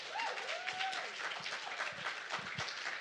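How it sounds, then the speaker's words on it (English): Quiet audience applause for poet Kenzie Allen at a Smith College poetry reading, soft and scattered, with a voice briefly audible at the start. "please give another round of applause for Kenzie"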